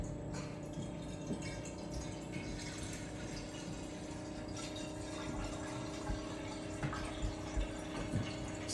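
A water dispenser fills a container with alkaline water, a low steady pump hum and trickle running throughout with faint drips and small clinks near the end, no talking.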